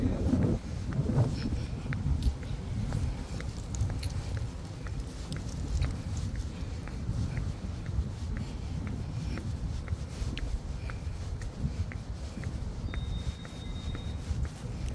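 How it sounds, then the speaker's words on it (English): Strong wind buffets the microphone with a constant low rumble and gusty roar, punctuated by faint clicks and taps. "Today it's windy, guys."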